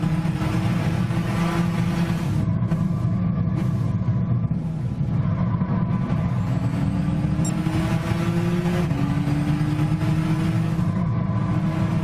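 Nissan GT-R race car engine in Gran Turismo 6, a loud sustained roar with rising and falling revs as it shifts gears, steady throughout with other cars' engines blending in.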